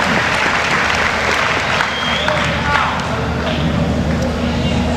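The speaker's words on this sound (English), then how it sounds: "let's give a big round of applause to Dr. Clarence Huber." Audience applause fills the room at a 1990 theater and poetry project awards ceremony, a steady dense clapping that holds at full strength throughout with a faint murmur of the crowd underneath.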